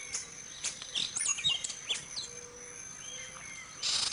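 An orange-billed nightingale-thrush sings near its nest in bushes in Venezuela: a run of short chirps and clear whistled phrases, moderately close over a faint hiss of background insects.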